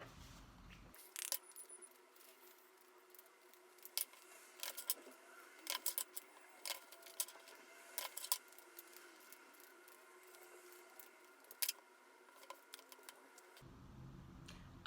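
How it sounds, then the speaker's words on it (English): Tarot cards are shuffled by hand, with quick, irregular clicking and riffling close to the microphone that comes in short bursts over a quiet background. "Let's shuffle."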